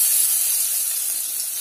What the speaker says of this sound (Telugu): దాంట్లో 3 టేబుల్ స్పూన్ల నూనె వేసాను, అది కూడా వేడెక్కింది. దీంట్లోకి 4-5 వెల్లుల్లిపాయలు పక్క ముక్క దంచుకున్నాను